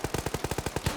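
Rapid burst of GPMG machine gun fire in a military shooter game, about nine evenly spaced loud shots in one second, sharp and close with no talk.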